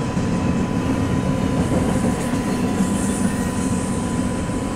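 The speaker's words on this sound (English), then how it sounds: "It's a long train." Long freight train rolling past on the tracks, a steady loud rumble with rhythmic wheel clatter and no voices.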